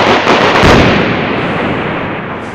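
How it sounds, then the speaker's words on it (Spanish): Loud, close burst of firecrackers set off by falleros during a Fallas morning wake-up in the neighbourhood, a dense crackling barrage that rattles on and slowly thins out. "ya están ahí los falleros tirando petardos"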